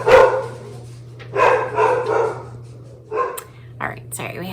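A pet dog barks several times indoors in short bursts, mixed with a person talking, over a steady low hum.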